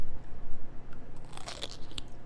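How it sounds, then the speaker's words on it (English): A refrigerated homemade pickle is bitten and chewed, giving a few sharp crisp crunches close to the mouth over a low room hum. "Let's see if we can hear the crunch."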